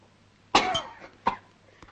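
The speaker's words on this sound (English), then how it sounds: "Cough it up." A man coughs after taking a drink of liquor in a 1941 mystery-comedy, with one harsh close cough followed by two shorter, weaker coughs against a quiet background.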